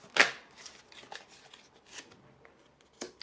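Tarot cards are shuffled and snapped in a few quick, close bursts, with a sharp riffle at the start and lighter flicks after, quiet in between.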